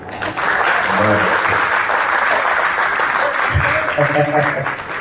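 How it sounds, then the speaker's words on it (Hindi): Loud, sustained audience applause fills a late-night Hindi poetry gathering (kavi sammelan) in Khandva, with a few voices calling out over the dense clapping. "इसको कहते हैं जोरदार तालियां।"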